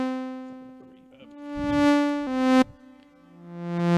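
Sustained modular synthesizer tones with rich harmonics shift pitch in steps, swelling and fading with a reverberant wash; no voices.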